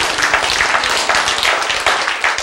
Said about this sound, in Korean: 박수부터 치고 봐야 돼.